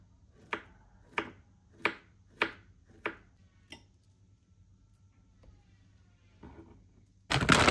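A long banana being cut with a knife, six sharp evenly spaced chopping taps close by, followed by quiet and then a sudden burst of louder noise at the end.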